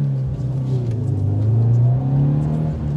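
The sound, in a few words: car engine revving under throttle while learning to drift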